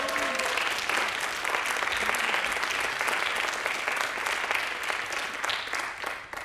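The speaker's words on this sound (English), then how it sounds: "A big applause for Nadine." Applause from a conference audience at the close of an education-for-sustainability thematic day, steady dense clapping filling the room for several seconds and tapering slightly at the end.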